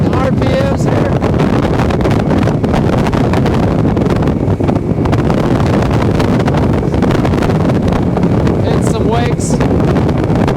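A 2018 Tracker Pro Team 175 TXW boat with a 75HP Mercury outboard runs at wide open throttle, a steady loud roar mixed with heavy wind buffeting, continuous throughout with no pauses.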